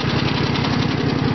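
A small engine on the Green Machine runs steadily, a close, loud, even chugging idle with a regular pulsing beat and no voices.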